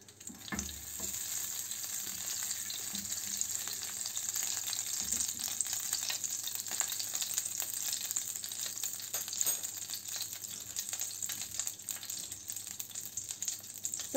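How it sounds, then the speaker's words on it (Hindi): A hot pan heating for white sauce pasta sizzles steadily, a continuous bright hiss with light crackles and pops, close by and moderately quiet, with no talking. "पैन हमारा आपको आवाज़ से पता चल रहा होगा कि गर्म हो चुका है।"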